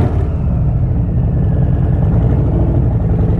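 A 2018 Harley-Davidson Fat Bob fitted with Vance and Hines Short Shots exhaust idles loudly and close by, a deep, steady, lumpy V-twin burble with no voices.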